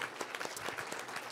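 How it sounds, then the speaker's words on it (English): A church congregation claps their hands together during a communion service, a steady, moderately distant patter of many hands. "Come on, clap those hands for Jesus,"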